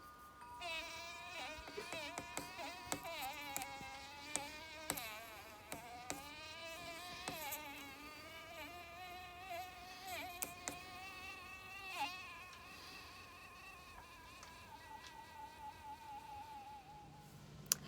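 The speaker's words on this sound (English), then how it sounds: "For those of you that have never heard a mad carpenter bee" An angry carpenter bee near a back deck gives off a loud, wavering buzz that bends up and down in pitch over many seconds, with sharp clicks and bumps breaking through it.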